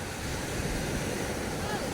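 Steady wash of surf with broadband rushing noise and some wind buffeting the microphone, continuous throughout.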